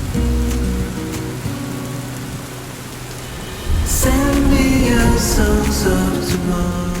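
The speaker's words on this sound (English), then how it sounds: "Today it non-stop rained. It was torrential downpours" Steady, heavy torrential rainfall on Mount Kilimanjaro hisses continuously, growing denser and louder partway through, with scattered drips and patters against a surface close by.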